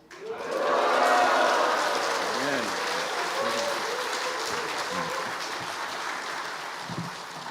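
Church congregation at a revival service applauding and cheering to welcome the pastor, a sustained wash of clapping with voices, loud from the start and slowly easing over several seconds.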